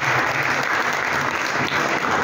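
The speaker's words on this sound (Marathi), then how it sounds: "एकदा खूप जोरात टाळ्या झाल्या पाहिजे." A college audience at a science association event breaks into loud, dense applause, a continuous wash of many hands clapping close by for the whole stretch with no speech over it.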